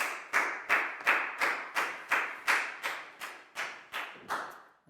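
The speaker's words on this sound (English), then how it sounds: "a big round of applause for Bangpon, please, guys." A Year 4 maths class claps together for a student in the classroom, a slow, even rhythm of about a dozen sharp, unison claps, each ringing briefly before the next.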